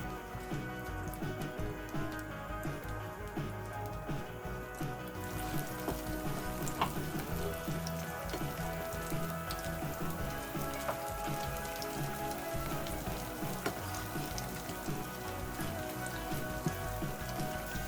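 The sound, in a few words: pakoras frying in oil on medium flame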